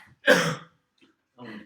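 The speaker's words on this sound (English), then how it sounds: "Cough like that." A single sharp cough or throat-clearing burst, close and fairly loud, followed a moment later by a shorter, softer voiced sound.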